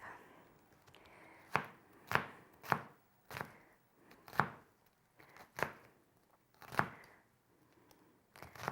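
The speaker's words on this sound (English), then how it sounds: "after we've julienned her, we're gonna dice it up" A knife dicing a julienned jalapeno on a cutting board, sharp close chops landing in an irregular series of about a dozen distinct strikes with quiet pauses between them.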